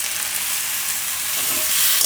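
Tomato hits a hot pan of spiced oil for Gujarati potato rice, letting out a loud, continuous sizzle and bubbling hiss close by with no voices.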